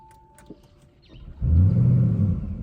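A 2024 Audi RS6 Avant V8 starts up close by, with a brief crank and then a loud, deep idle rumble that holds steady, following some quiet cabin clicks. No one talks.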